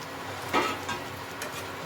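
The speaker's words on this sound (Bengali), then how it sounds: "এর মধ্যে এই যে মশলা মাখানো বাটি ধোয়া জলটা আমি এর মধ্যে দিয়ে দিচ্ছি।" Water from a rinsed masala bowl poured into chicken chaap masala frying in a pan, giving a brief burst of sizzling that quickly settles to a soft, steady crackle.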